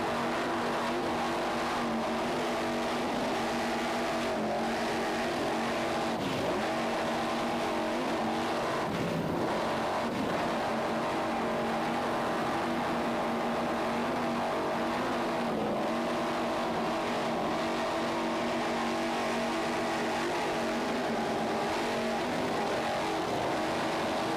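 The Relentless, a 32-foot Skater racing powerboat, at a world championship race off Deerfield Beach: a loud, steady engine drone with shifts in throttle, with no talking.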